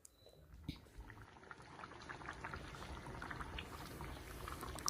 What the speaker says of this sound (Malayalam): കറി നന്നായി തിളക്കുന്നുണ്ട്.